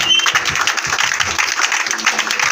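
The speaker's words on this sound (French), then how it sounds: "Est-ce que tu vas encore acclamer puissamment?" A church congregation applauds and cheers loudly, with dense clapping filling the room and voices mixed into the crowd noise.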